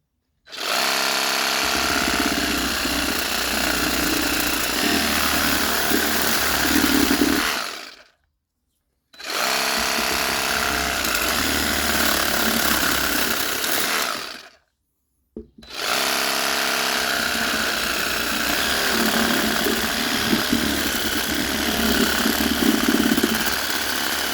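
An Einhell GE-GS 18/150 cordless pole saw cuts branches, its loud steady motor whine running in three long bursts with brief silent pauses between them.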